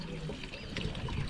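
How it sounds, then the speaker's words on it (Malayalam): Water runs out of a pipe in a short, steady, close trickle and pour lasting about a second, with no voices over it. "ഇതാണ് ആ വെള്ളത്തിൻ്റെ പൈപ്പ് കേട്ടോ."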